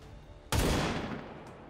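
A single loud sniper rifle shot in XCOM 2 bursts out after a short quiet stretch, then a booming tail rolls off over about a second.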